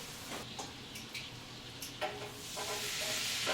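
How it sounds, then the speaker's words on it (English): Butter melts in a pan with a soft steady sizzle that swells toward the end, broken by a few light clicks and scrapes of a utensil. "Get our butter melted down."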